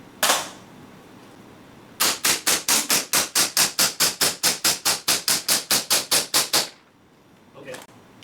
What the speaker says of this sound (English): And we fire about 23 rounds.